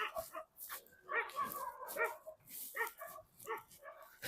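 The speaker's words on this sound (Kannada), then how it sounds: "ನಾಯಿ ಯಾವ ತರ ಬೊಗಳ್ತಾ ಇದೆ." A village dog in Hirisave barks in a rapid, irregular series of close, loud barks and yips with hardly any voice over it.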